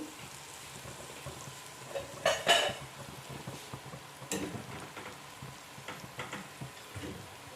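Spice paste of cumin and coriander powder frying in a pan as a little water is added, giving a brief loud sizzling burst followed by lighter crackling and occasional stirring clinks, for a Bengali fish curry with potato and lentil dumplings.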